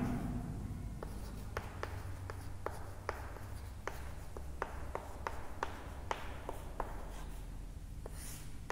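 Chalk or marker taps and scratches on a board in a biology classroom, a string of sharp, evenly spaced clicks over steady room noise, fairly quiet and with no speech.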